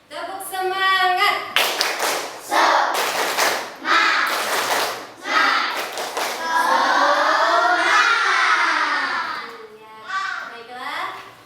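A school class performs a rhythmic clapping chant, bursts of sharp group claps alternating with children's voices calling out in unison, loud and close.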